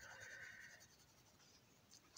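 Oil-based colored pencil coloring on paper, laying down a fifth colour layer: soft, faint scratchy strokes, a light rasping scribble that eases off, recorded close and quiet with no talk.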